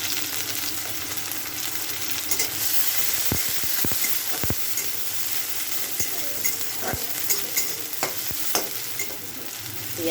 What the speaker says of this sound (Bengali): তেলটা গরম হয়ে গেছে। এবার একটু পেঁয়াজের সাথে ক্যাপসিকাম রেখে দিয়েছি, দিয়ে ক্যাপসিকামগুলো দিয়ে দেবো।